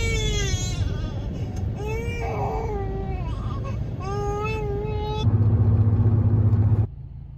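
A fussy infant cries and whimpers in a series of wavering wails inside a moving car on a hot day. The cries sit over a steady engine and road rumble that swells louder toward the end.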